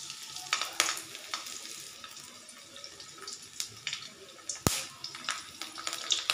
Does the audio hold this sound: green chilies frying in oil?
yes